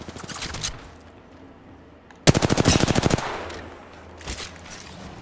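Rapid automatic gunfire in Apex Legends, a short opening burst then a loud, tight string of about a dozen shots, followed by fainter scattered fire further off.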